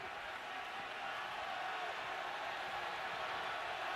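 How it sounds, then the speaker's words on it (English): A stadium crowd at a college football game between Oklahoma and Baylor, a steady, dense murmur of many distant voices with no distinct cheers, even and continuous. "There's a murmur in this place."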